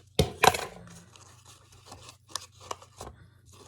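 Scissors cut paper or thin cardboard up close: two sharp snips open the sequence, followed by a string of lighter, irregular cuts and rustles against a low background hum.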